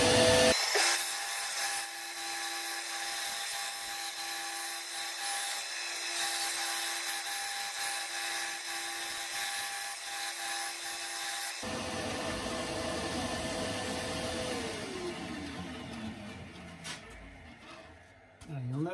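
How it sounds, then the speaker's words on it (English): A dust extractor drones steadily in a guitar-building workshop during rosette inlay work, a constant close mechanical hum with a tonal whine that shifts character partway through. "we'll switch on the extractor"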